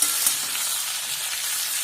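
Potato and papaya fry in a wok with a steady bright sizzle that carries through the short stretch, a brief clatter near the start, and no voices.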